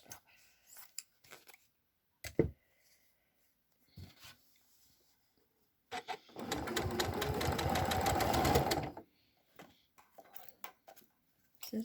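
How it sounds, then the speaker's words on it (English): Scissors snip through a scrap of folded paper up close, a short run of brisk cutting strokes following a few isolated clicks, with quiet handling noises around it and no talk. "Scissors."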